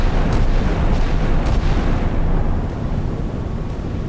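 Naval guns on a German F124 Sachsen frigate fire in Sea Power with a dense, rumbling roar of deep booms that rolls on without a break and eases slightly toward the end.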